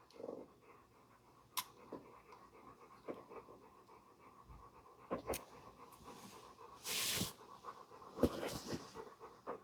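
A dog pants and huffs softly and intermittently close by, with occasional sharper bursts of breath and small clicks over a quiet background.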